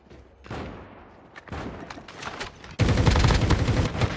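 Gunfire in the video game Call of Duty, scattered single shots followed by a dense, loud burst of rapid automatic fire.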